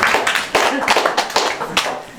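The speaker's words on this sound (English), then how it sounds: "Even a warmer applause for Zikri." Clapping from a small audience at a media art event, uneven bursts of hand claps of varying density with voices heard in the room.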